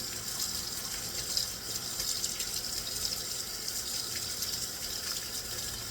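Tap water runs steadily into a sink as burdock root is rinsed, a constant close splashing gush with light uneven spatter throughout.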